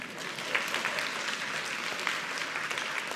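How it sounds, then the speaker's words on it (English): Steady applause from an audience at a heart health forum, dense clapping filling the space evenly throughout with no break. "You can give her a round of applause."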